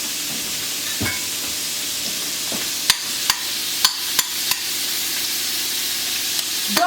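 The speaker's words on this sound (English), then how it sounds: "I did not add any seasoning to the shrimp. So don't put any seasoning on it. Just fry it." Unseasoned shrimp frying in a pan: a steady, fairly quiet sizzle and hiss with a few sharp pops and spatters scattered through the middle, no voices.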